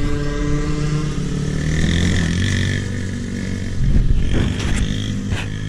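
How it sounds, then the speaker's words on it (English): A kid rides a small dirt bike nearby, its engine a steady buzzing drone that rises and falls as it shifts into second gear, with no talk over it. "There's Brody. Always been riding the dirt bike"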